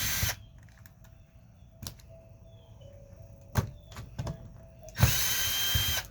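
A power drill with a chewed-up, worn bit runs in several short bursts, the last one loud and close, with quiet pauses and light clatter in between, during wall prep inside a camper under remodel.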